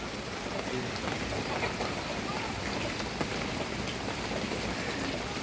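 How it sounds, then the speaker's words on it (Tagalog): Heavy rain pours down in the Philippines, flooding the area out front, making a dense, continuous roar of drops hitting surfaces, loud and steady throughout. "Lakas ng inulan na agad."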